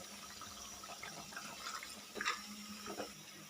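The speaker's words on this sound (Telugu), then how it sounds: "మనము గ్రేవీకి కన్సిస్టెన్సీ సరిపడా కొంచెం హాట్ వాటర్ని యాడ్ చేసుకోవాలి" Hot water is poured into boiling chicken gravy for a green chicken dish, giving a faint, steady liquid pour with a few soft splashes and clinks around the middle.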